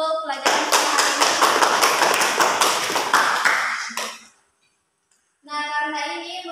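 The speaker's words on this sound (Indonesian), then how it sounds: "tepuk tangan dulu untuk pelajaran kita hari ini" A classroom full of students claps together for about four seconds at the end of a chemistry lesson, loud and quick. The clapping stops and a short silence follows before a voice speaks.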